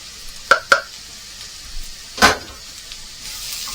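Ras El Hanout spice stirred into wild rabbit tagine in a pan: a few sharp scraping clacks and a brief stirring rustle over a faint background sizzle, close and quiet.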